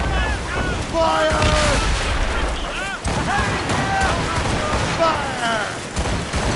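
Ship cannons fire a broadside in Assassin's Creed Rogue, heavy booms rolling one after another under a busy battle din with whistling, sweeping tones. Crew voices shout over the barrage.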